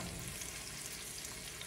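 Vegetables sizzle and fry steadily in a skillet for a lemon chicken orzo dinner, a dense, even crackle with no voices.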